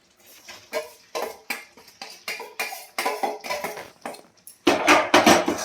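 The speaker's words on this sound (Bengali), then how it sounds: "দিয়ে এটা আমি ভালো করে নাড়বো" Coconut being stirred with jaggery and sugar in a pan, a series of irregular scraping, clattering strokes of a spoon against metal, loud and close, ending in a denser burst of scraping.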